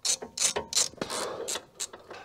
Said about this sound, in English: Then we're going to tighten them in a star pattern so that the wheel bearing sits in its place in the hub.